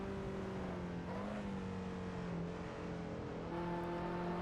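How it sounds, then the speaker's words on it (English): A car engine in the Assetto Corsa racing game on the Nordschleife, a thin, steady engine drone with gentle pitch shifts as it accelerates through the gears, moderately quiet and with no speech. "And that engine doesn't sound too strong,"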